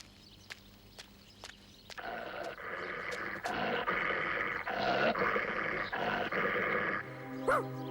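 A dog in a Hindi film scene snarls and growls close by in a sustained rough burst lasting several seconds, following a few sharp taps, then breaking off abruptly.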